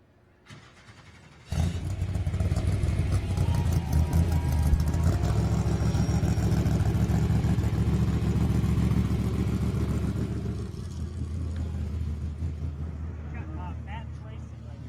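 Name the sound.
Trophy Truck race truck engine running at tech inspection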